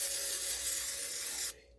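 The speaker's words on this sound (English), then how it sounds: "Now I'm using an olive oil nonstick cooking spray" A continuous hissing spray from an aerosol can of olive oil nonstick cooking spray, close and fairly loud, lasting over a second before cutting off sharply.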